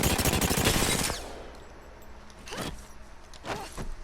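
Automatic fire from the RE45 pistol in Apex Legends: a loud, dense burst of rapid shots for about a second, then quieter mechanical clicks and handling noises.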